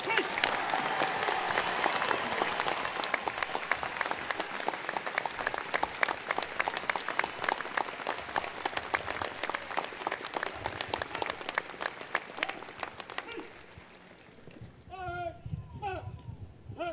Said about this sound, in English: Please join me in a round of applause for our newest second lieutenants.